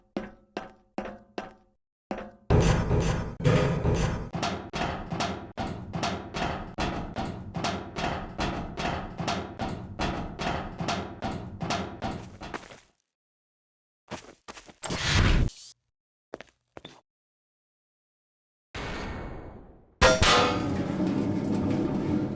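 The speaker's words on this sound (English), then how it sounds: "Stanley moved to the ladder in the back of the room and began to climb towards the rafters" Footsteps climbing a metal ladder in The Stanley Parable: a steady run of loud, evenly spaced metallic clanks, followed by a few scattered thumps and pauses, then a burst of rumbling noise.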